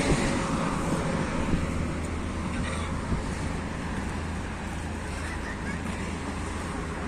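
Strong wind roars steadily outdoors, a broad rushing noise buffeting the microphone with no pauses for the whole stretch.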